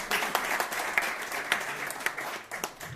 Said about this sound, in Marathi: खूप जोरदार टाळ्या वाजवा